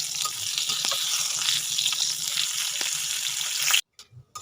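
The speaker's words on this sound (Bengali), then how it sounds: "প্রথমে তেলের মধ্যে পটল আলুগুলো আমি ভালো করে ভেজে নেব।" Pointed gourd and potato pieces fry in hot oil in a pan, producing a continuous crackling sizzle up close that cuts off abruptly near the end.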